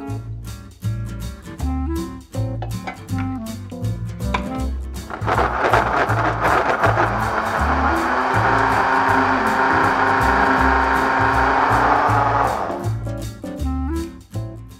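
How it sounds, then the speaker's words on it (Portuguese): An electric blender grinds peeled mango with a small splash of water, starting abruptly and whirring loudly and steadily for about seven seconds before cutting off, with background music playing throughout. "Após descascar, colocamos no liquidificador."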